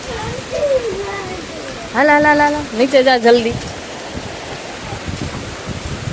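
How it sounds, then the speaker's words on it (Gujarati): Steady hiss of heavy rain pouring throughout a Ganesh immersion outing in Rajkot, while a person calls out loudly and urgently over it. "ભલે પલ્લી જાઓ વરસાદ આવે છે અત્યારે જોરદાર"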